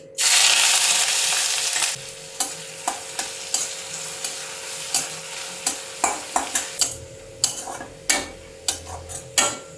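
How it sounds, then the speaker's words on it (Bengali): Chopped onions hit hot oil with a loud, bright burst of sizzling that settles into a quieter hiss, then a spatula clinks and scrapes the pan in a quick irregular rhythm, close up, with no voices. "তেলটা আমার গরম হয়ে গেছে এবার আমি পেঁয়াজ কুচিটা ভেজে নিচ্ছি"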